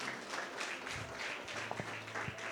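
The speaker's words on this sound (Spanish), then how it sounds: "un fuerte aplauso al Señor" A church congregation applauds during a sermon, giving soft, steady clapping from a room full of people with a few sharper taps standing out.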